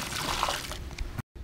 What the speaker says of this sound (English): I'm going to go ahead and start pouring this into the pool around the edge.